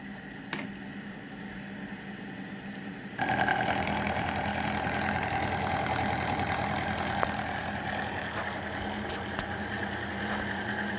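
A Myford lathe fitted with a radius cutter takes a cutting pass on a ball-turning part, with a steady mid-pitched machine drone and hum that grows louder partway through, running continuously without any talk.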